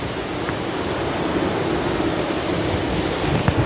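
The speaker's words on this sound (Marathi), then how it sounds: "समुद्राला लाटा बघा, पाणी कसं आलेलं आहे." Sea waves and wind at Kelshi beach on the Konkan coast in the evening, a steady, broad rushing wash of surf with wind noise that stays even and continuous throughout.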